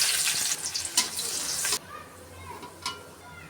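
Chopped onions hit hot oil already sizzling with whole cumin seeds and dried red chillies, giving a loud burst of hissing sizzle that quiets after a couple of seconds into a low, steady crackle.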